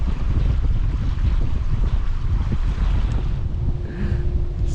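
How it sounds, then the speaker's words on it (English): Wind buffets a boat on the Norfolk Broads, a constant loud rumbling roar against the microphone with rushing air and water, steady throughout with no talk. "And the wind's picked up again."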